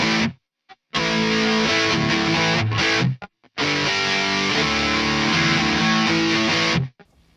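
Electric guitar played through a Neural DSP Mesa Boogie Mark IIC+ amp plug-in on a tight crunch setting, dense distorted chords in two loud bursts separated by short clean silences, the notes cutting off sharply.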